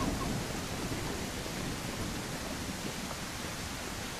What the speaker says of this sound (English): it is raining and that's not great